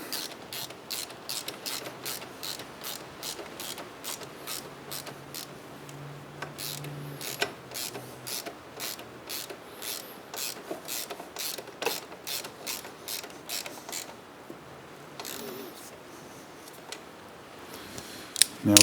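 A ratchet wrench tightens a 14mm nut on a Triumph motorcycle exhaust, giving a quick series of sharp clicking strokes, close and quiet, with a faint metallic clink near the end.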